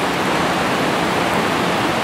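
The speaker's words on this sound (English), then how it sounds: "Isn't that waterfall beautiful?" Lower Mesa Falls on the Snake River roars as a steady, dense broadband rush of falling water, loud and unbroken throughout, with no voices.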